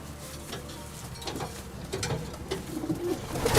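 Vercammen-line racing pigeons coo softly in a loft, low murmuring calls repeating over a rustling background that grows slightly louder toward the end, with no voices.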